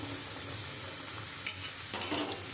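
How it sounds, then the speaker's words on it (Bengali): Onion-garlic paste with chilli, turmeric and cumin powders frying in a pan for a spicy fish curry, a steady soft sizzle with a couple of brief stirring scrapes near the end, no talking. "এবার মশলাটা আমি খুব সুন্দর করে কষিয়ে নেবো"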